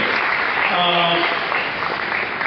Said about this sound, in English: Round of applause for engineer Satish Marathe.